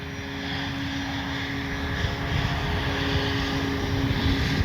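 An FMS Ranger 1800mm RC airplane in flight, its electric motor and propeller giving a steady, continuous drone at moderate distance outdoors.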